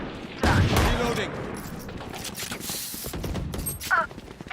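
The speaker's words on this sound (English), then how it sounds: "Reloading." A weapon is reloaded in Valorant, with clicking, ratcheting mechanical sounds heard amid bursts of gunfire and game effects, and a voice speaking over it.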